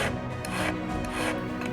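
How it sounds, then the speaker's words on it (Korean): Steady abrasive rubbing of 240 and 400 grit sandpaper scraping back and forth over a cast metal square ring, close up and continuous. "사포로 면들을 깨끗하게 정리합니다"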